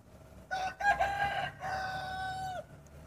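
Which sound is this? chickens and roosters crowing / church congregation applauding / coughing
chickens and roosters crowing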